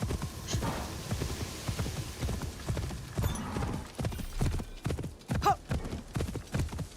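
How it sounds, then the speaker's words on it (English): A ghostly horse in the game Assassin's Creed Shadows, with steady clip-clopping hooves and a brief whinny, moderately close, with game ambience and a voice talking over it. "It's effectively like a ghost horse."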